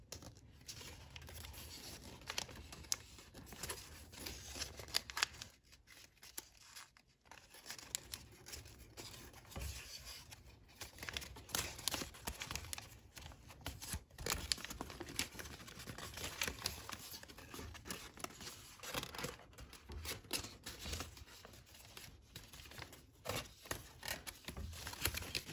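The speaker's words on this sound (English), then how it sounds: "just make these creases. And then you can continue this fold down there" Origami paper is creased and folded by hand in soft, close rustles, crinkles and scrapes that continue quietly with brief pauses.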